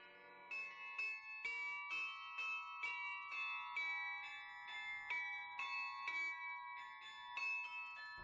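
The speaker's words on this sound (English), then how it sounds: "has agreed to give me a quick lesson on playing the carillon" Carillon tower bells ring out a melody, each struck bell sounding clearly with long ringing overtones, played in an even tune-like rhythm of repeated notes, fairly distant and alone without talk.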